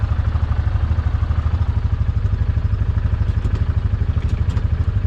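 A Hisun Axis 500 UTV engine idles loudly and close by while being shifted into reverse, a steady, rapid mechanical pulsing with slight clatter and no break in the rhythm.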